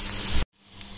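Dry red chillies, curry leaves and asafoetida frying in hot oil for tempering raw mango dal, a loud dense sizzle that cuts off abruptly, then a quieter sizzle gradually returns.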